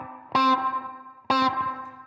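Artist LP60 electric guitar through a Tweedtone V amp on the clean channel, two separate chords each struck sharply and left ringing with a short decay, close and moderately loud with no talk.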